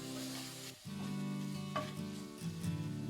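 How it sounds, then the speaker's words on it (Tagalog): Minced ginger and garlic stir-fried in oil in a pan, a steady close sizzle with a brief dip and scraping stirs, for spicy Korean pork bulgogi. "Haluin natin yan hanggang sa lumabas na yung aroma ng ating ginger and garlic."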